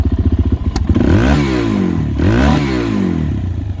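A quad bike's engine idles with a lumpy, pulsing beat, then is revved twice in quick succession, each rev rising and falling sharply, loud and close with no talk.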